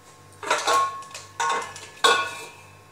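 Three metallic clanks of a lid being set and adjusted on a pressure cooker, close and clear in a quiet kitchen.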